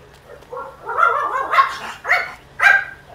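An angry dog barks in Farming Simulator 19, several sharp, close barks in an uneven run with short gaps between them, standing clear over quiet background.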